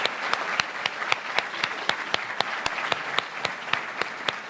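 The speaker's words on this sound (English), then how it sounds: "let's have another round of applause for all our award winners tonight" An awards celebration audience for a PharmD graduating class gives a round of applause to its award winners, a steady, dense clapping that holds evenly throughout, with sharp individual claps standing out from the crowd.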